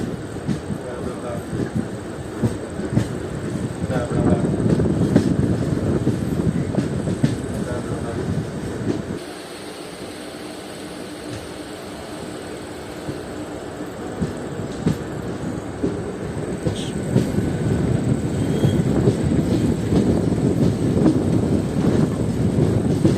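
The Ernakulam–Kollam special express runs along the line, its loud continuous rumble and rattling wheels dipping briefly to a quieter hum mid-way before swelling again.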